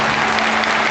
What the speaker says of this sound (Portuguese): Quem pode aplaudir mais forte?